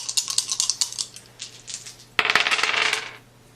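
Dice clattering in a box during a Betrayal Legacy board game, a quick run of light rattling taps followed by a louder, denser tumble of hard pieces, close by with no talk.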